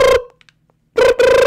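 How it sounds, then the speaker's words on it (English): House phone ringing inside a Minecraft game, two short electronic rings near and loud, separated by a silent gap with faint clicks. "Is that like a house phone?"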